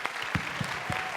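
A crowd at a school speaking event gives a short round of applause, a continuous wash of many hands with a few louder low thumps, heard briefly.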